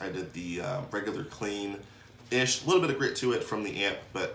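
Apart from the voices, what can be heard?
None of the usual background noises is heard.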